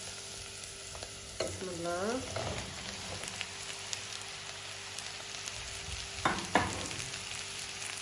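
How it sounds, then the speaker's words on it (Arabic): Zucchini pieces drop into a pot of frying onion and garlic, giving a steady sizzle with clattering bursts as they land, and a brief spoken phrase comes early on. "بس قلينا البصل والثوم وصاروا بهيدا الشكل، هلا بحط الكوسيات."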